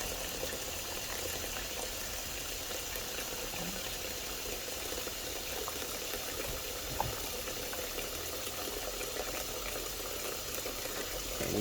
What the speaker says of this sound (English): we're just going to keep rinsing it until it's all clean